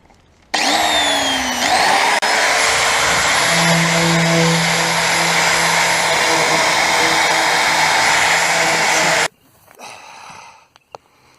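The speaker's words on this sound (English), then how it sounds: "With the wire brush, got it fairly clean." Power-driven wire brush scrubbing rust off a Land Rover Series 2a 88 steel fuel tank: a loud, continuous whirring grind that starts abruptly, holds steady with a shifting pitch, then cuts off, followed by quiet handling noises.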